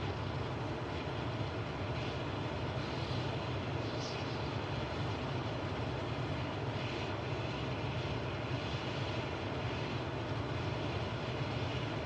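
A steady, droning airplane engine hums in a cockpit in Microsoft Flight Simulator 2024, a constant loud rumble with no breaks and no talk.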